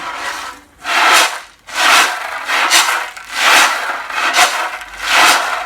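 Repeated wooden rubbing and creaking strokes of rowing-boat oars, about five steady pulls in rhythm, close and fairly loud with short pauses between.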